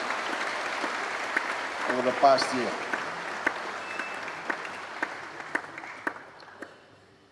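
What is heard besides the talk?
audience applause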